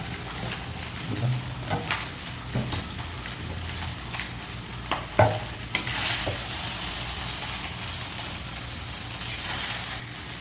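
Bread and egg frying in a pan for a sandwich, a steady close sizzle broken by scattered scraping and stirring clicks, with a louder hiss swelling in the last few seconds.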